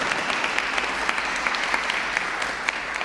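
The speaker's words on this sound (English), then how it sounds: "Let's give them a round of applause." Audience applause at a Brooklyn Hero of the Month ceremony honoring local heroes, a steady, dense wash of many hands clapping that continues evenly for the full length without any speech over it.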